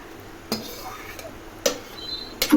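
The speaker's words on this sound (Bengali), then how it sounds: "এখন ঢাকনা বন্ধ করে দুটো হুইসুল বেজে গেলে আমি এটি নামিয়ে নেব" A pressure cooker lid is handled and closed with a few distinct metallic clanks, spaced about a second apart, close by, the last one louder with a brief scrape.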